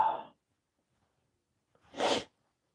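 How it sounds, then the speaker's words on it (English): Two close, forceful human sneezes from one person, a short burst, a pause of well over a second, then a second longer burst, alone without talk. "Big sneeze."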